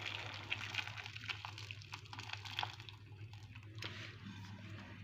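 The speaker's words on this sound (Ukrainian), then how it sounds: "Картоплю я порізала ось на такі частинки, щоб вони були меншими. Заливаю кипяченою водичкою." Freshly boiled water poured over cut potato pieces in a pot, a faint close trickle with soft drips and splashes against a steady low background hum.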